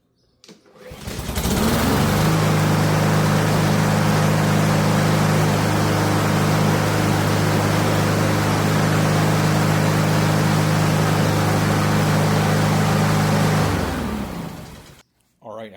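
A Honda walk-behind lawn mower with a new carburetor fires on a pull-cord start and settles into a loud, steady close-up drone that runs evenly for about twelve seconds before cutting off.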